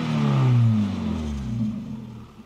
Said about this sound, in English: maybe there is more audible pleasure coming out of that huge exhaust tailpipe